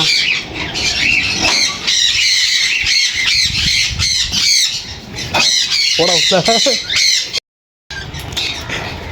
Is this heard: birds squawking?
yes